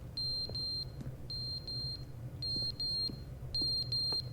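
In the video game The Stanley Parable, an electronic alarm gives high-pitched beeps in groups of three, each group separated by a short pause. The sound is thin and fairly quiet over a low background hum, and nobody speaks.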